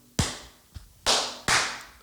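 Several sharp hand claps ring out in a room, one loud clap followed by a softer tap and then two more strong claps, spaced under half a second apart, with no voices.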